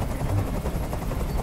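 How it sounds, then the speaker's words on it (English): A helicopter hovers in Detroit: Become Human, giving a dense, loud, continuous rotor roar with a low throbbing pulse and no pauses throughout. "I can't stand that noise anymore! Tell that helicopter to get out of here!"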